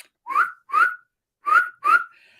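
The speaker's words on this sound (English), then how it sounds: "Sometimes you will whistle." A person whistles four short, rising notes in two quick pairs with a pause between them, clear and close in an otherwise quiet space.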